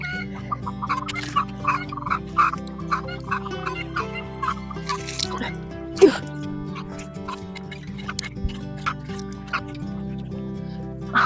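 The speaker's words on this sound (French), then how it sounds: "Ah, une poule vient de pondre." Hen cackling after laying an egg, a run of loud, repeated clucks and squawks rising and falling over several seconds with other fowl nearby, out in a farmyard garden being prepared for summer planting.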